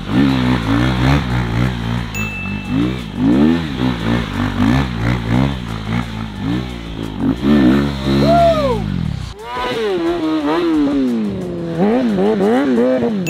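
A KTM RC 390 and a Ninja 636 superbike drift in a battle, their engines revving loud and close in rising and falling surges, with a brief dip before a fresh run of revs.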